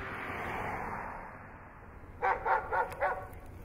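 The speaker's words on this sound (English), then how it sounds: "He sounds like a fantastic dog." Four quick barks from a dog named Bart, evenly spaced and moderately close, following a stretch of steady hissing background noise.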